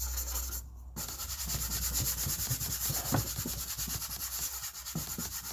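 Steady scrubbing along the bottom of a surface, a close, rhythmic rubbing and scraping that rises and falls in strokes, with a brief pause near the start and no talking.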